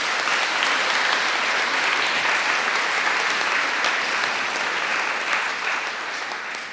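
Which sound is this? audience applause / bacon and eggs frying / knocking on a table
audience applause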